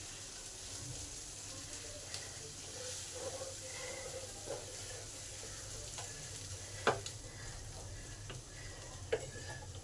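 Mashed potato fries with spices in a pan for a muri ghonto dish, a faint continuous sizzle with occasional sharp ticks and spatula clicks throughout.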